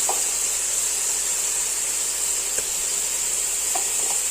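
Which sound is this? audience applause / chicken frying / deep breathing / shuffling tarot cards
chicken frying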